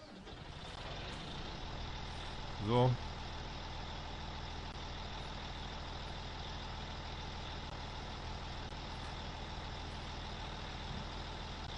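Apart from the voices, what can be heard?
vehicle arriving in Farming Simulator 19 video game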